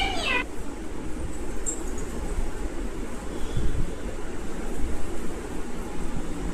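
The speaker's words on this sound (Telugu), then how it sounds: "ఇది పిల్లినా ఏం సౌండ్ అది?" A single short cat meow sounds right at the start, then gives way to steady, loud broadband noise with no speech.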